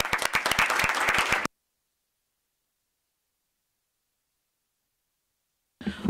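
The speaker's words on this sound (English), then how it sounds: "please join me in a round of applause for our speakers" Audience applause for the speakers at the close of a panel event, a dense round of clapping lasting about a second and a half before cutting to silence, with a brief return of noise at the very end.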